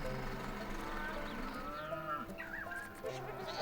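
Cows moo in the video game Farm Manager 2018 in drawn-out, wavering calls over a layered backdrop of other farm animals, moderately quiet with a faint voice mixed in.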